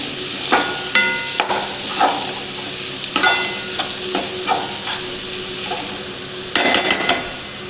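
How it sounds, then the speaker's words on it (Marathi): Onion sautéing in a pan after ginger and garlic for a whole masoor curry, giving a soft continuous sizzle broken by repeated sharp clanks and scrapes of a spoon against the pan. "कांदा आपल्याला छान परतून घ्यायचा आहे."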